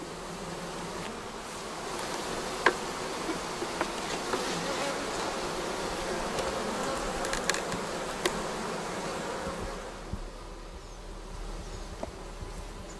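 A honeybee colony hums steadily during comb transfer, a dense close buzzing of many bees with occasional small clicks and knocks, softening near the end.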